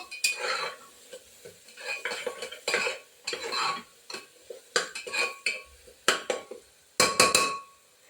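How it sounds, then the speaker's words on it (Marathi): Spices sautéing in oil in a pan while a utensil stirs and scrapes them, giving irregular clinking, scraping bursts over a soft sizzle, close and fairly loud, with no talking. "हे बघा सगळे मसाले मी छान परतून घेते"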